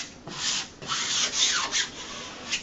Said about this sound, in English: you just want to take your squeegee